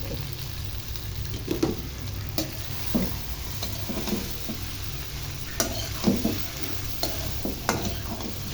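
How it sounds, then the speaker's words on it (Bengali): Food is stirred in a clay pot over a soft frying sizzle, with irregular scraping bursts from the utensil against the pot's sides. "নাড়া দাও"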